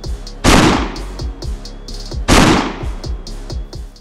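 A 36-caliber shotgun shell is fired into a brick wall. Two loud, close blasts about two seconds apart each ring out in a long tail over a steady low thumping.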